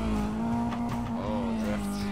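A car drifts in Need For Speed Undercover, with a steady droning engine and a sustained tire squeal through the short moment, loud and close, alone without talk.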